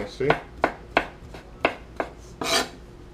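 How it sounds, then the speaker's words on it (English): A knife chops garlic on a cutting board while a pepper steak is being prepared, giving about eight sharp, evenly spaced knocks at close range, with a brief scraping sweep near the end. "you just pretty much just keep chopping it just like this until you get all the little nice pieces"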